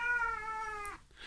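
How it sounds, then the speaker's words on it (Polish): A cat gives a single drawn-out meow close to the microphone indoors, a clear tonal cry lasting under a second, followed by a faint rustle. "Sorry za kota."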